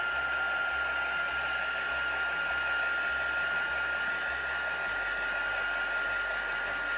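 A hair dryer blows steadily and close, drying ink on paper in a crafting setting, a constant whooshing roar with a high motor whine, uninterrupted for the whole stretch.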